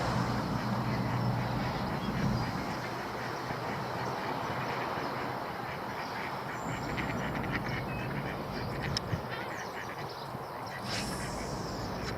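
Mallard duck quacking beside a canal, a few faint quacks over steady outdoor background noise with no talking.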